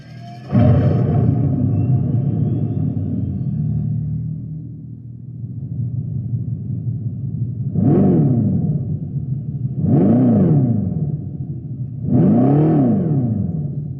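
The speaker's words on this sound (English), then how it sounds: "That sound you just heard is from the Fratzonic chambered exhaust." A loud, deep synthetic engine rumble from a Dodge Charger Daytona Scat Pack electric car's Fratzonic chambered exhaust swells on, then three rising-and-falling revving roars follow in steady succession, close and powerful.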